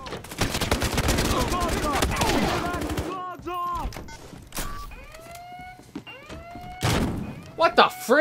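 Shotgun blasts ring out during an online Battlefield Hardline heist match, with loud bursts of gunfire at the start and again near the end, mixed with game effects and a player talking.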